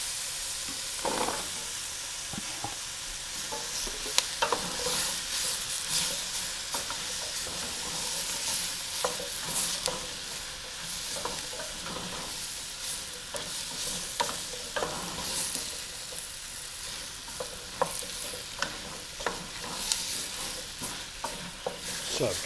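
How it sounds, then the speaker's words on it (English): Lentil curry ingredients, with meat but no turmeric yet, are stirred and sizzle in a hot pan. A constant frying hiss runs throughout, with scrapes and clinks from the utensil scattered through it. "So I've given it all a very good stir."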